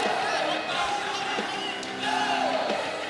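At a live MMA and kickboxing event in Patong, the crowd cheers and roars in a steady wash of noise while a commentator talks over it, with occasional louder shouts rising from the audience.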